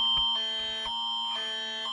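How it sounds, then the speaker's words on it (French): A mobile phone sounds a Quebec government state-of-emergency alert: a loud, harsh, buzzing tone pulses in steady on-off bursts close by, with no talking. "Ça, c'est l'alarme de mon téléphone."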